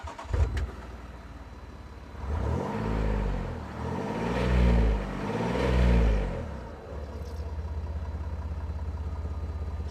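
Range Rover Vogue by Kahn with a custom exhaust, the engine starting up then revving in three or four rising and falling bursts before settling into a deep idle, loud and close with no talk.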